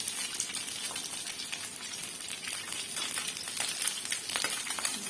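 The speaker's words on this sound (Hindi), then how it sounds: "इसको हम हल्का सा फ्राई करेंगे" Fresh river fish frying lightly in ghee in a pan for fish curry, a soft, steady sizzle with faint crackles and occasional light clinks, continuing alone without talk.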